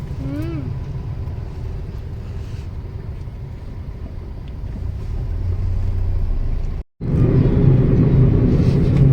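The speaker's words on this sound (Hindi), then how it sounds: "रास्तों को चीरते हुए, ट्रकों के बीच में से निकलते हुए, ट्रैफिक को चीरते हुए" A WagonR CNG car drives along a highway through heavy truck traffic, with a steady, loud road and engine rumble throughout and a brief cut in the sound near the end.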